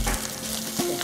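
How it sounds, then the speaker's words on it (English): Cold day-old cooked rice with pineapple stir-frying in very hot oil over a wood fire, a steady close sizzle and crackle for about a second with a brief stirring scrape near the end. "The key ingredient in this dish is pre-cooked cold rice, ideally a day old, stir-fried in very hot oil."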